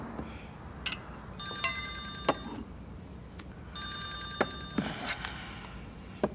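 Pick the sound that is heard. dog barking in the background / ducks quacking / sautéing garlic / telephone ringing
telephone ringing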